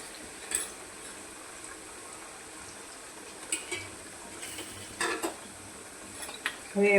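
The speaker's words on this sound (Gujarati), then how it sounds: "હવે એને આપણે હલાવવાની છે" Crisp suran yam chips are stirred in a pan, with faint scattered scrapes and light clinks over a quiet background hiss. The stirring strokes come irregularly, a few seconds apart.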